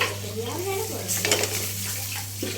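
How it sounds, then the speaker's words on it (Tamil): Okra frying in a pan with chicken 65 masala powder, stirred over low heat: a steady close sizzle with scraping spoon strokes against the pan, busier clatter midway, and no talking. "சிக்கன் பொடி போட்டு நல்லா வறுத்துக்கலாம்"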